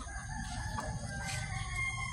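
A rooster crows close by, one drawn-out cock-a-doodle-doo near a cement company office and barracks, clear and fairly loud over a low outdoor rumble.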